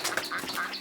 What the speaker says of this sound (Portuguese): Era o rei dos patos